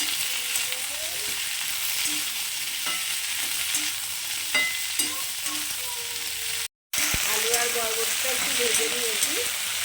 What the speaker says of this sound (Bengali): আলু আর বরবটিটা একটু ভেজে নেবো